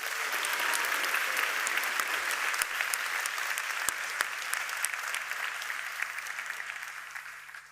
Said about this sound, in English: So please give Mr. Banzal another big round of applause.